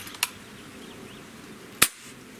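Two sharp, quiet cracks from an airgun fitted with a cheap $16 suppressor, spaced over a second apart, each a brief snap with little echo.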